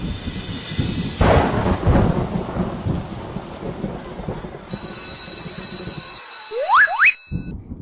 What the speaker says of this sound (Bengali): বৃষ্টি তো সকাল থেকে পড়ছে